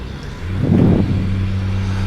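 A heavy-haul truck engine with a heavy-haul transmission in American Truck Simulator, pulling a load of vehicles up a steep incline; a steady low drone that swells briefly and then settles into a sustained hum.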